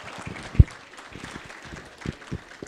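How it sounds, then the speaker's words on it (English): Scattered, sparse clapping from a signing-day audience applauding their parents, a few irregular hand claps close by with one sharp loud clap, fairly quiet overall. "clap your hands to your parents"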